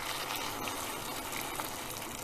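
Hot water pours into a cooking pot in a steady, soft gush, about 3 cups, a continuous quiet rushing filling the pot.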